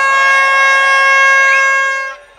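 A loud, sustained air horn blast at a drum and bass event in Bournemouth sounds as a bright, steady multi-tone wail lasting about two seconds before cutting off abruptly.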